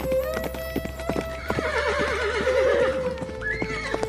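A handsome, strong horse clip-clops with steady hoof beats while it neighs and whinnies loudly several times, close by and with no voices.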